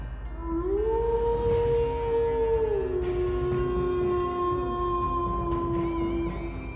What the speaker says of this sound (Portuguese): um uivo aterrorizante ecoou pelas ruas